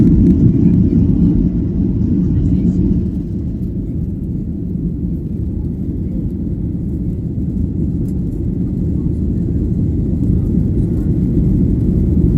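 Inside an airplane cabin on a flight to Sarasota, Florida, the engines make a steady, heavy low-pitched roar. The drone stays constant and loud throughout, with no distinct voices.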